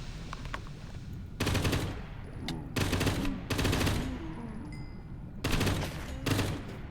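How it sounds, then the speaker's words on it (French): A creature firing at the player in the Minecraft Prehistoric World mod, heard as several bursts of rapid, loud shots with short pauses between them. "Il y a un truc qui me tire dessus là"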